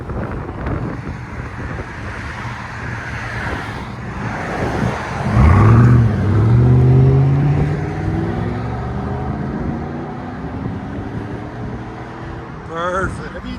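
A Chevy Tahoe 5.3L V8 rumbles through a Dynomax Race Bullet exhaust with a 6-inch tip and resonator delete, rising into a loud, deep rev and then settling back to a steady idle, with wind noise and voices nearby.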